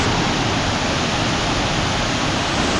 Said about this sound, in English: Today we are at Bandung Waterfall.